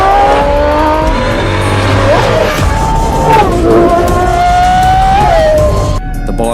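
A 6.5-liter naturally aspirated Cosworth V12 hypercar engine screams as it accelerates, its pitch climbing in sweeps with brief dips between gears, loud and close, then cuts off abruptly near the end.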